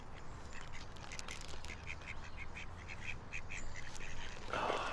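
A crowd of ducks quacks continuously nearby while waiting for birdseed, overlapping calls against steady outdoor noise.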